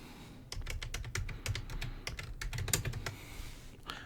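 Typing on a computer keyboard, a quick burst of close, crisp key clicks in uneven rhythm, fairly quiet, with no talking over it.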